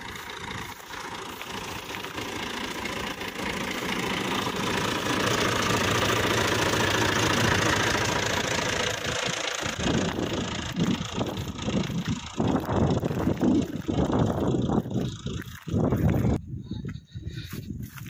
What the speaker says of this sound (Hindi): ट्रैक्टर स्टार्ट खड़ा हुआ,